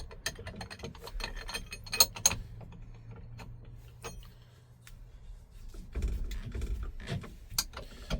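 A ratchet socket wrench, 3/4 socket, turns bolts into threaded nuts on a square-body truck, giving rapid clicking ratchet strokes in bursts with pauses, close and fairly loud.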